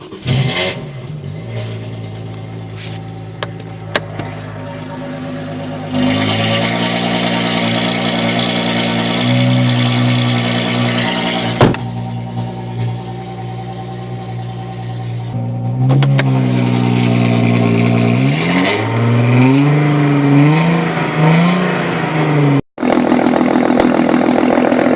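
An Audi A4 2.8 V6 quattro engine and exhaust idle, then rev repeatedly, the pitch climbing and falling in sweeping bursts, loud and close, with a sharp cut near the end before the revving resumes.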